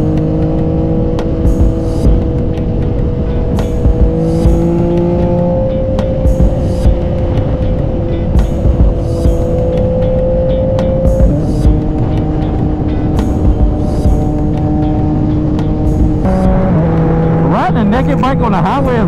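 A naked motorcycle at highway speed gives a steady, loud engine drone with shifting pitch and constant wind roar, and a voice speaks over it intermittently.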